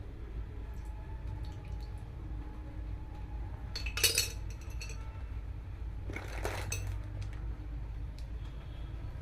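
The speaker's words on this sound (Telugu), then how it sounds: "ఇప్పుడు వేరే ప్యాన్ పెట్టుకొని ఆయిల్ వేసుకుందాం" A pan set on a stove and oil poured in while making tomato sauce chicken fry: two short bursts of metallic clinking and scraping over a low steady hum, fairly close, with no talk.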